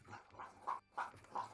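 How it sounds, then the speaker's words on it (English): A dog lapping water from a bowl, with three or four wet, rhythmic laps and short pauses between them, faint and close by. "Sounds like there's a dog drinking somewhere."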